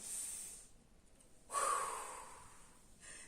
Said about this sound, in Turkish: Derin bir nefes alın şimdi.